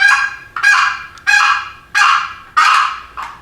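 A hunter's call mimics a tom turkey during a turkey hunt in a series of six sharp, loud yelping bursts, each fading quickly, repeated at a steady rhythm.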